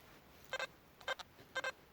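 An XP ORX or Deus metal detector gives an iron-tone signal: three short double beeps, evenly spaced and fairly clear against a quiet background, with no talk.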